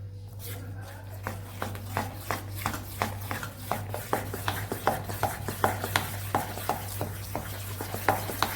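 Spoon scraping and stirring semolina and gram flour with turmeric in a bowl, a steady run of short repeated scrapes and taps, fairly close, with a low constant hum underneath.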